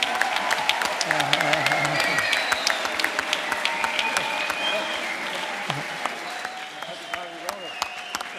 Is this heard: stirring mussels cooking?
no